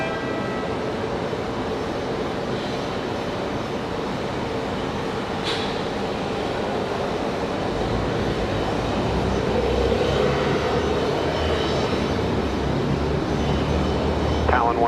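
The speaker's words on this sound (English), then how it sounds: "last official departure of the evening." Departing jet at Raleigh Durham airport, a steady broad roar building gradually over about fifteen seconds with a deeper rumble growing in the second half, continuous and fairly loud without speech on top.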